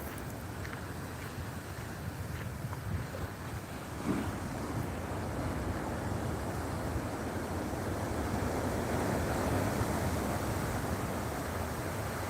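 Ocean surf rolls steadily along the coastline at Bouznika at sunset, a continuous broadband wash of waves with wind noise, holding a constant level with a slight swell partway through and no voices.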